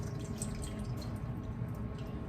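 Water drips from chopped spinach squeezed in a paper towel, faint and close, with small irregular drops over a steady low background hiss.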